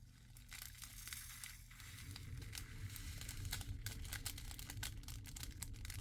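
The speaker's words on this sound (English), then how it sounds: "If you do not like the sound of plastic crinkling, this is not the video for you at all." Plastic packaging crinkles and crunches while a kit is unboxed, close and fairly quiet, with continuous rustling and sharp crackles and no talking.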